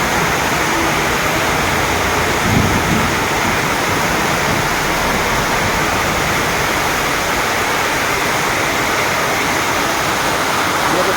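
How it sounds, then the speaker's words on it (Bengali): Rain falling steadily in Krishnanagar on a dark day, a dense, loud, unbroken hiss of rain with no pauses and no talking. "বৃষ্টি পড়ছে অন্ধকার হয়ে গেছে"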